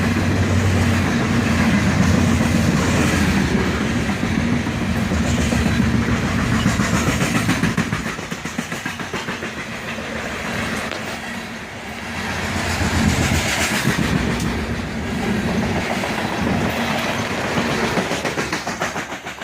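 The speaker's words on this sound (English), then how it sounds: "And there goes the bottom of the train." A long CSX coal train of loaded hopper cars rolls past close by, a continuous heavy rumble and rhythmic wheel clatter that dips briefly in the middle before building again.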